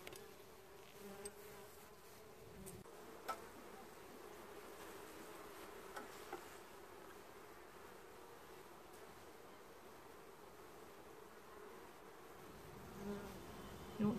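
Honeybees buzz steadily around an open hive during a summer heat wave, a dense, continuous drone with a few faint knocks and rustles, fairly close and with no talking.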